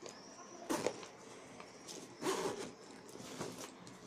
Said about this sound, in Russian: Закрывается на молнии.